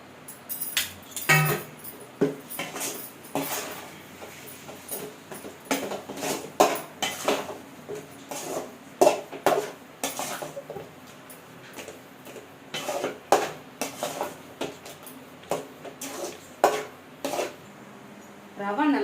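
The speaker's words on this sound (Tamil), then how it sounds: "ஒரு மாதிரி சிம்மில் வச்சு 5 நிமிஷம் நல்லா கைவிடாமல் கிண்டணும்" A spoon scrapes and clinks against a pot while rava kesari simmers on low heat, a steady run of irregular metallic taps and scrapes, close and moderately soft, with someone talking throughout.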